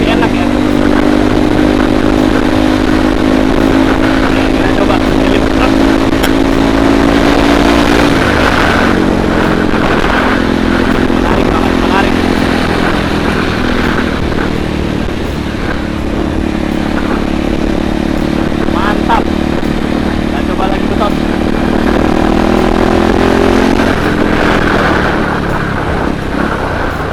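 Kawasaki KLX 230 motorcycle ridden at speed, its single-cylinder engine droning loud and close with pitch rising and falling through throttle changes, steady throughout, with a rider's voice talking over it.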